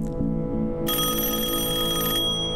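An old-fashioned telephone bell rings in a steady, close burst over a low background hum, then cuts off.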